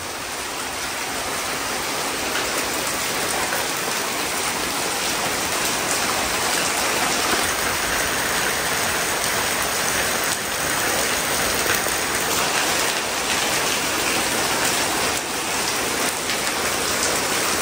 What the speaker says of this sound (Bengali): বৃষ্টি আরো বাড়লো।